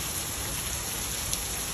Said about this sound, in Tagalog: Umuulan na naman guys.